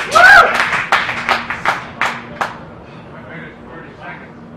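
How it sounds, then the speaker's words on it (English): Applause and scattered clapping from a crowd watching the Red Bull Stratos space jump, loud bursts at first that thin into fading claps, with a steady hum underneath. "there's the applause"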